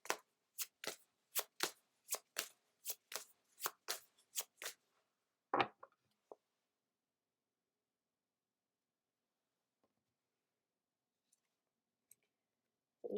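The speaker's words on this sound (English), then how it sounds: "Next, we will pull a card from the Spirit Animal" Tarot cards riffled and shuffled in a quick run of about a dozen crisp bursts, then a few soft taps as a single card is drawn from the deck, followed by near silence with faint rustles.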